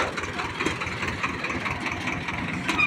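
A tractor engine runs on National Highway 152, a steady low rumbling drone heard close with passing traffic noise around it.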